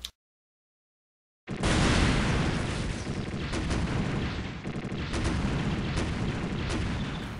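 Missiles fired from the Gundam Leopard Destroy in the SDGO video game, a sudden burst after a short silence that becomes a loud, continuous roaring barrage of blasts lasting several seconds.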